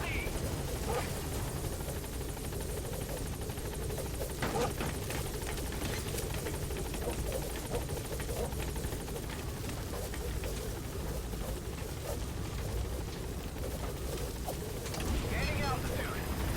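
The support helicopter in Metal Gear Solid V climbs away: a steady, dense rotor and engine roar fills the whole stretch, with a faint voice under it.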